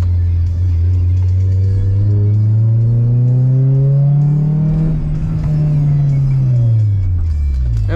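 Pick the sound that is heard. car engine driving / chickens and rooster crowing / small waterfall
car engine driving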